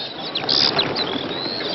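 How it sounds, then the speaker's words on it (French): A flock of birds bursts into flight, a loud rush of flapping wings with a few faint chirps, close by and brief, then fading under background noise. "quel est le sombre imbécile qui fait partir mes oiseaux?"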